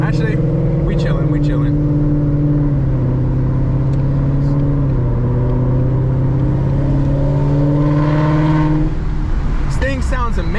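A 2021 Mustang GT with an E85 tune and full bolt-ons drones and rises in pitch as it accelerates, steady and close, with a brief voice near the end.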